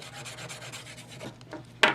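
A key scrapes and rasps across the back case of a Moto X phone in repeated short strokes, ending with a sharper scratch.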